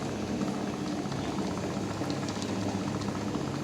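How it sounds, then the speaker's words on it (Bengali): Rice boils in a pot on a home stove as part of a simple Bengali meal, with potatoes cooked in the same pot, making a steady, dense bubbling and hiss throughout with no talk over it. "ভাত বসিয়ে দিয়েছি"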